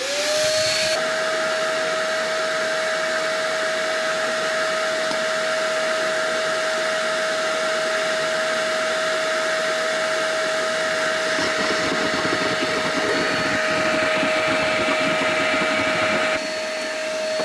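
A vacuum cleaner switches on near a C25 CityCamper campervan and runs with a loud, steady whine and airy roar for many seconds before cutting off near the end.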